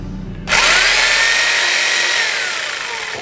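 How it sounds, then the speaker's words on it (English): Jigsaw cutting through a plastic part, starting abruptly after a short pause with a loud, steady buzzing rasp of the blade that holds for about three seconds and tapers slightly toward the end, no talk. "So I'm gonna hit that with the jigsaw."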